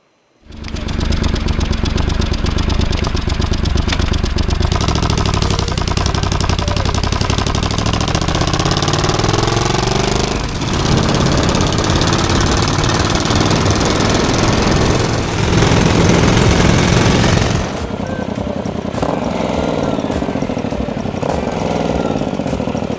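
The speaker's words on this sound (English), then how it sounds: "It's a full flow-through mass exhaust system, and it sounds just absolutely amazing." A Triumph Scrambler 1200 XE engine roars loudly through a full flow-through exhaust, rumbling steadily and close by, revving higher partway through before dropping back to a heavy idle.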